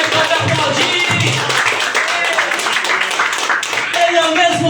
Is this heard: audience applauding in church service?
yes